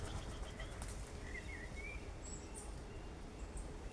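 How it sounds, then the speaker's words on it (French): A wood pigeon's wings flap as it flies past near vineyards, amid faint outdoor background noise and a few distant bird chirps. "Par contre, on a le pigeon ramier, hop, ce qui nous passe juste devant."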